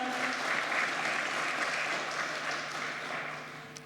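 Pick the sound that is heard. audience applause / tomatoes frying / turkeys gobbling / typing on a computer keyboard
audience applause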